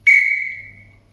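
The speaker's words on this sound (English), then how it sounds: "you have the normal whistle where some of us are just going." A single sharp referee whistle blast, loud and close, starting abruptly and holding a steady pitch for about a second before fading.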